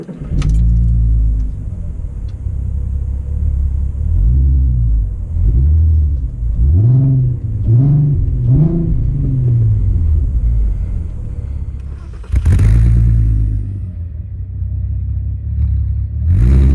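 VR6 Golf GTI engine revs repeatedly on a drive, with rising and falling throaty sweeps over a deep, loud rumble, followed by a heavier surge of acceleration near the end.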